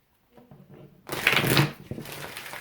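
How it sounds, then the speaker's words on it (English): A deck of Healing with the Angels oracle cards is shuffled by hand: a quiet rustle builds into a louder riffling flutter of card stock, followed by a few softer taps, all close to the microphone. "I'm going to shuffle the Healing with the Angels deck."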